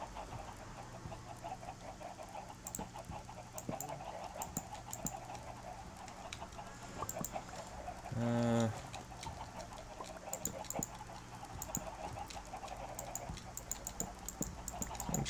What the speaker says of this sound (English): This is the sound of chickens.